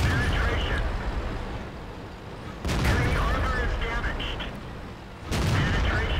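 Tank cannon shots in World of Tanks ring out as two or three heavy, booming reports over a constant rumble of battle noise, with a voice talking throughout.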